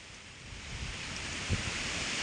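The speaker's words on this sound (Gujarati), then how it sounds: "આ કેટલો જોરદાર પવન ફૂંકાઈ રહ્યો છે" A strong wind gusts across open countryside at the onset of heavy rain, a constant broad roaring rush with slight swells in strength throughout.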